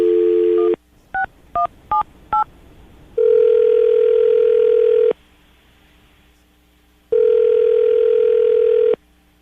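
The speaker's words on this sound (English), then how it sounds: "going to call her right now, get her on the phone" Touch-tone dialing beeps in a quick series, followed by two long steady electronic ringback tones separated by a pause, clear and close.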